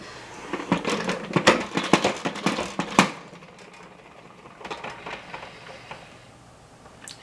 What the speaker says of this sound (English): I'm going to put it in my salad spinner just to get rid of some of the extra water.